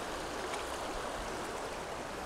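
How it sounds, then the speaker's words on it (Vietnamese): Mountain stream flowing through flood-damaged Làng Nủ village in Lào Cai, a steady dense rush of water, close and even throughout, without speech. "em Biển đang đi ở dưới dòng suối này"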